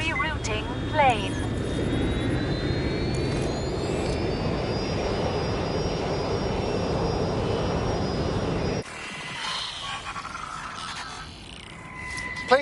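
A plane's engine roars in Watch Dogs Legion as a dense, steady rumble with a rising whine layered on top. It cuts off abruptly partway through, leaving quieter game sounds.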